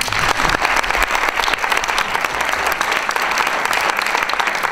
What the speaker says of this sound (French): déjà je vous applaudis